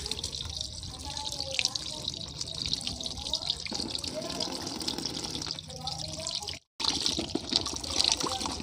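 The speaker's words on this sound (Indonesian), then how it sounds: "Cuci dulu, dicuci dulu ya." Tap water runs steadily into a sink while food is rinsed before cooking tempeh, a continuous close splashing and trickling with brief changes in flow and a short break near the end.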